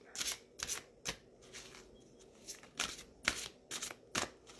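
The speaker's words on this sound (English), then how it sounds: "I'm going to give one more shuffle and see if anything else pops out" Tarot cards being shuffled by hand, a series of short crisp riffling bursts in an uneven rhythm, close and clear with no talking.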